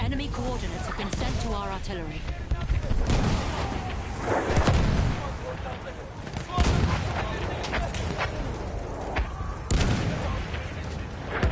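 Artillery fire in an online multiplayer shooter game: heavy booms and scattered gunfire rumble throughout while players talk over them.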